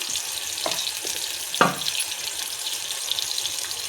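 Tomato and carrot frying in hot oil for Maggi, giving a constant hissing sizzle with a few brief louder spatters.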